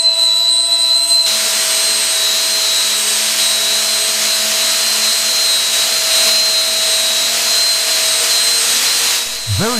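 Fire-extinguishing gas discharging into a warehouse hall, a loud continuous rushing hiss that starts abruptly and holds steady with faint tonal whines, then cuts off briefly near the end.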